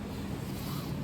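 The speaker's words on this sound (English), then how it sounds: "You can hear the river right now." A river runs beside a campsite on the Lost Coast, a steady, quiet broadband rush of flowing water with faint wind noise and no voices.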